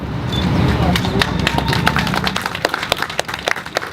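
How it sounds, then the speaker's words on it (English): Scattered clapping from a group rises into sharp, uneven claps, with talking mixed in and outdoor background rumble underneath. "You all keep clapping and give it up for this family one more time"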